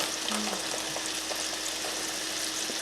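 Chicken strips fry side by side in a crowded pan, giving a soft, steady hiss of oil with faint scattered pops and no voices.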